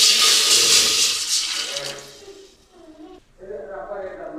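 Water is poured from a glass into a cooking pot of boiled sago, making a loud close splashing gush that tapers off, followed by a softer trickle.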